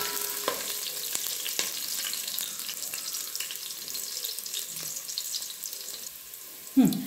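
Soaked rice goes into a hot pan for chicken dum biryani and gives a steady, close sizzle with crackling frying texture throughout, and a brief heavier clatter right at the end.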